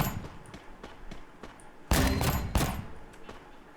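Gunfire bursts in the mobile battle royale game Free Fire, a sudden loud volley of shots and impacts landing a headshot double kill, rising abruptly over quieter game ambience.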